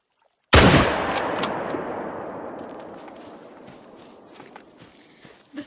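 A .303 rifle fires a single sharp close shot in the hunting game The Hunter: Call of the Wild, followed by a long rolling echo that fades slowly with faint footsteps.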